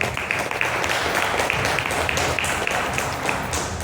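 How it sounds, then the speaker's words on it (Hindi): A seminar audience in Vasco, Goa breaks into dense, sustained applause, many hands clapping together at full volume for a few seconds. "तालियां बजाओगे?"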